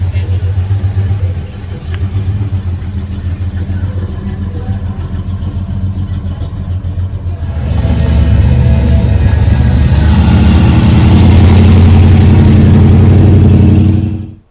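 A supercharged 1971 Plymouth Duster 340 with dual four-barrel carburetors runs loud and close at a Mopar car show. Its rumble holds steady, then swells to a heavier, louder roar about halfway through, with background voices mixed in.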